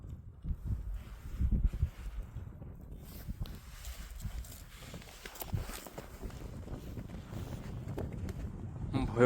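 Winter wind gusts across frozen Näsijärvi lake in Tampere, Finland, buffeting the microphone with a steady low rumble that swells and eases throughout, with no voices heard.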